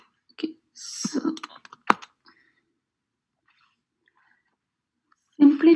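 Fast clicky taps on a computer keyboard, a quick flurry of keystrokes followed by silence, with a voice briefly speaking at the end.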